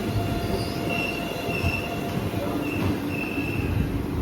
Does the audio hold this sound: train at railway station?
yes